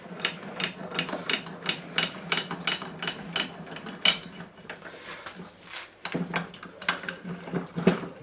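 A workbench vice being taken apart, with a small bolt being removed, gives rapid ratcheting clicks in irregular bursts, close and fairly quiet, with no talk.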